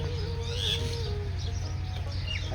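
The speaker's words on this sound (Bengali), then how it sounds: "এবার চরখানপুরে এসে চারদিকে পাখির কিচিরমিচির শুনে মুগ্ধ হচ্ছি" Birds in Charkhanpur village near Rajshahi give a few faint, scattered high chirps on a hot summer morning over a steady low background rumble, with no voices.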